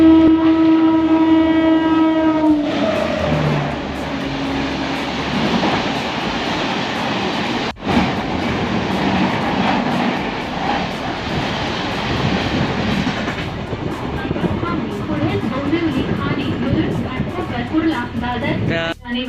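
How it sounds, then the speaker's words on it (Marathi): A fast local train roars past a station platform after a horn blast at the start, its loud rumble and clatter of wagons filling the whole stretch up close, with people talking over the din. "बापरे किती आवाज करते ती ट्रेन"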